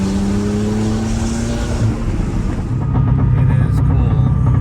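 A 1991 Porsche 964 C2 Turbo drives at a mellow pace, its engine a steady low drone with tyre and road rumble, heard from inside the cabin and building slightly toward the end, with a voice talking over it early on.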